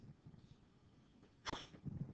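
A single sharp sneeze bursts out midway, loud against a quiet classroom with faint murmuring before and after.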